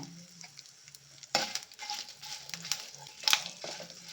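Chillies frying with spices in a pan for hotel-style tomato bath, a soft crackling sizzle with occasional louder bursts and light stirring scrapes, fairly quiet and close.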